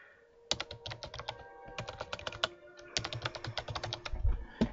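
Keys patter on a computer keyboard as an email address and password are entered, quick close clicks in bursts with a short pause midway and a soft thump at the end.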